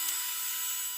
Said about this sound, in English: I have my drill on here that'll just kind of go right through it